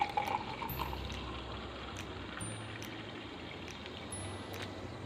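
Cold drink being poured into milk in a glass, a soft continuous liquid stream with faint fizzing, close and gentle, plus a few thin high tones over low background hum.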